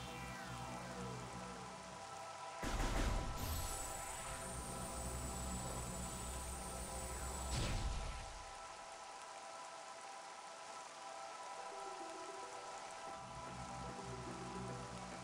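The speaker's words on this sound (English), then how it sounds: "The rain falling on the visor and even on the arm cannon." Rain falling on the visor in Metroid Prime Remastered, a soft steady patter under a humming game ambience, with a brief louder swell partway through before it settles back to quiet drizzle.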